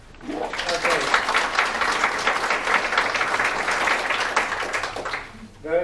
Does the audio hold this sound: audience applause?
yes